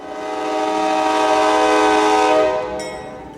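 A CSX welded-rail train rolls past with its horn sounding one long, loud, sustained blast that swells and then fades, with faint rail clatter underneath and no voices.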